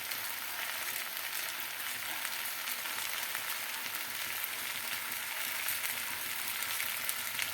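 Spices frying in hot oil in a pan with softened tomato, a steady close sizzle with fine crackling that runs evenly throughout, no voices over it.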